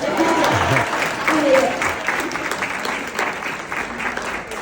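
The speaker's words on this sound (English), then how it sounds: "Yo, come on, clap." A keynote audience at an NAACP inaugural event in Jacksonville claps steadily, a dense and continuous sustained applause from a large crowd with some voices mixed in.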